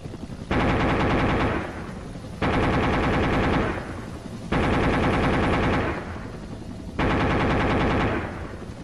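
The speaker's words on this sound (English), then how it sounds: "Each of you is going to fire a 40-round burst." A rotary machine gun fires from a helicopter in four long, roaring bursts, each lasting about one and a half to two seconds and separated by short pauses, loud and close throughout.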